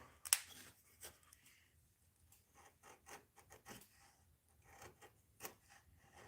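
Steel chisel scraping out the cut channel in a wooden fishing lure body, giving short dry scratchy rasps in irregular bursts with one sharp knock near the start, close up and fairly quiet.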